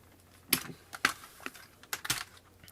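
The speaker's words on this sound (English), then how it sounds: "I'm taking the keyboard apart because we're going to see what's inside of it." A standard membrane computer keyboard is taken apart by hand, giving several close, sharp plastic clicks and snaps in irregular bursts over a quiet background, with no talking.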